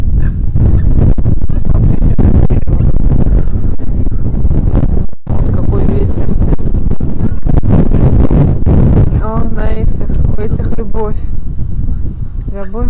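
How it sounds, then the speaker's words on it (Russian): Loud, constant wind buffeting the microphone by the sea at night in Izmir, Turkey, with people talking over the roar and a brief dropout midway. "Здесь у моря такой ветер."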